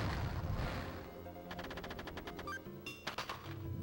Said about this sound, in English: I'm going to use a hyper bomb since it just takes one of these.